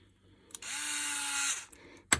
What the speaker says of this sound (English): Do my Tim the Toolman Taylor, use some power tools.